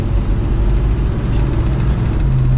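A 5.8 liter V8 in a 33-year-old Ford Bronco XLT rumbles steadily while driving on the road, a loud, continuous low engine drone with slight surges as it gets up to speed.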